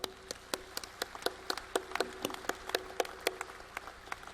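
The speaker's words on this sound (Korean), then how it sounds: "큰 박수로 이 선언을 함께 채택하시겠습니다" A church congregation claps to adopt a declaration at a Liberation Day prayer meeting, sparse, fairly faint handclaps in an irregular rhythm, heard alone.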